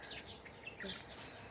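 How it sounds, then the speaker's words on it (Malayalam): Birds chirp and tweet in a backyard in Al Falah, Abu Dhabi, with several overlapping calls over a steady outdoor hiss. The calls are moderately close and continuous. "പക്ഷികളുടെ ഒച്ച കേൾക്കാൻ പറ്റുന്നുണ്ടാവും അല്ലേ നിങ്ങൾക്ക്?"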